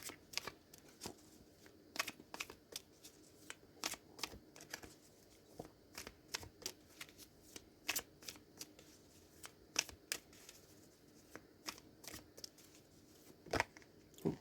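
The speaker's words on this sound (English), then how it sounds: "Let's pull the rest of the tail cards and see what comes out." Tarot cards are handled and drawn from a deck, giving soft, irregular flicks and snaps of card stock, faint and close, with short quiet gaps between.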